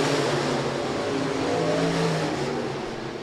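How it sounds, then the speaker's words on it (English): USRA stock cars roaring off the green flag at the start of a heat race: a dense, continuous blend of several engines at full throttle, loud and steady, easing slightly at the end. "Precision Auto Body, USRA stock cars, green flag out, heat race number 1 of"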